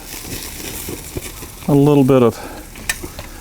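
Food sizzling and splattering on the grates of a Monument portable grill, a crackling fry close by with a short loud tonal burst in the middle.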